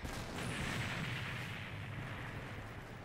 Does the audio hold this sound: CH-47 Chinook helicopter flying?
no